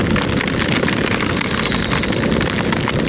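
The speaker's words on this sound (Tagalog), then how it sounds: "Doon walang ulan masyado, dito ang lakas." A dense, steady roar of heavy rain pours without letup, loud and close, with no voices.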